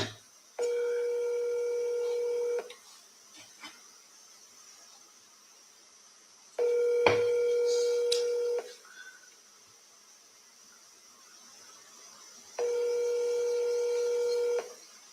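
A phone call being placed, with three long, evenly spaced ringback tones separated by quiet gaps, one of them overlapped by a brief click.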